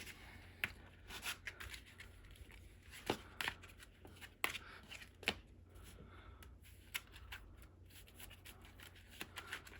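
A deck of playing cards, used for Dark Magician test hands in the Yu-Gi-Oh card game, is shuffled with brisk riffling bursts and quieter sliding in between, close up and steady for about ten seconds with no talk.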